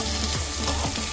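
Steady close sizzle of green chillies frying in hot oil in a pan for masala upma, a continuous crackling hiss with faint stirring and no voices.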